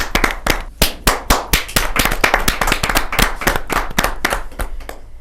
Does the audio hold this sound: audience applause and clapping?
yes